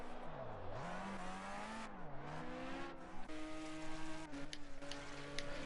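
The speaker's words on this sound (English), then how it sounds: "Here's your next LMP2 on the road." An LMP2 prototype race car at Le Mans passes by, its engine note rising and falling through gear changes as it sweeps past, loud and distinct with no talking.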